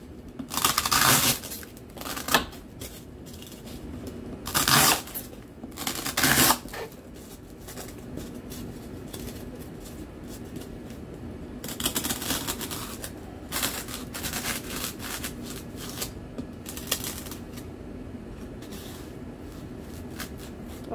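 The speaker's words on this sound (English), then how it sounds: "So right now I just cut the edges" Scissors trim the edges of a handmade craft flour sifter in a few short bursts of cutting and snipping, with rustling of material in between and quieter handling noise.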